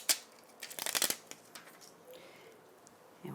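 Peeling a small black swirl die-cut off its backing sheet for a florette frame card, a quick papery crackle of several rapid tearing bursts in the first second, then quieter handling rustles.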